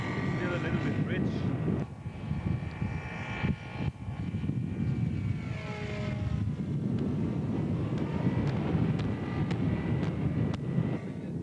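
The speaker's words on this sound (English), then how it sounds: "Seidel 9-cylinder, Yak 11. Still a little bit rich." Seidel 9-cylinder radial engine on a scale Yak 11 model aircraft, tuned slightly rich, drones steadily at an outdoor scale aircraft show, moderately distant with wind buffeting and some rise and fall in pitch.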